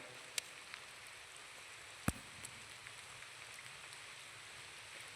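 Steady light rain falls during an outing to cut coconuts in Sheriyaj, a soft, even patter broken by a couple of sharp clicks and no voices.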